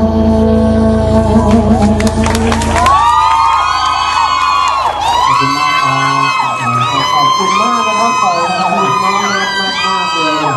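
A loud crowd of fans screams and cheers over blaring music at a pop singer's live show at Tokyu MBK Center, shrill high-pitched shrieks rising and falling throughout.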